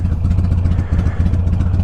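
A carbureted 2006 Harley-Davidson Sportster 883 engine runs close and loud, a steady low, lumpy idle throb with a rhythmic mechanical clatter and no talk.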